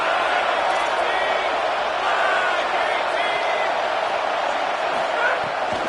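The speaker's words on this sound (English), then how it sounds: "Decibels rising as the crowd gets behind this defense on third down." A football stadium crowd roaring on third down, a loud, dense and sustained wash of cheering noise that holds steady throughout without letting up.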